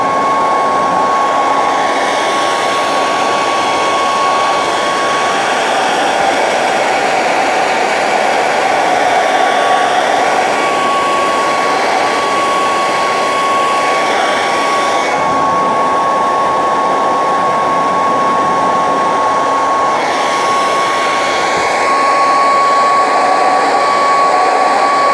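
A heat gun blows steadily on a thick resin cape piece to soften it for bending, a loud, continuous close-up whooshing roar with a constant motor whine and slight shifts as the gun moves.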